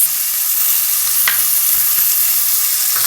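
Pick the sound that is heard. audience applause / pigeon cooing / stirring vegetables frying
stirring vegetables frying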